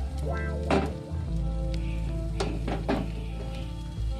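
A paratha sizzles steadily in a pan on medium heat, with a soft continuous frying hiss and a few light scraping clanks from the pan.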